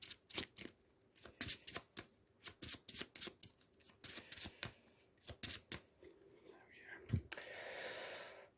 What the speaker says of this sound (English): And they get shuffled back into my deck.